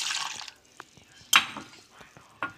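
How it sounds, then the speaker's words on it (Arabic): Onion water is poured over chicken seasoned with paprika, chili, thyme and mixed spices; a short splashing pour opens, followed by quieter drips and a few light clinks of kitchenware. "هكب مية البصل"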